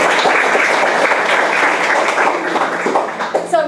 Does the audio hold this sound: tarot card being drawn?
no